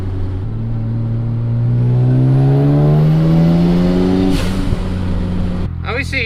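Mazda RX-7 FD twin-turbo rotary engine revs up in a rising, buzzy climb, holds near the top, then drops off with popping bursts as it shoots flames near the end; close and loud.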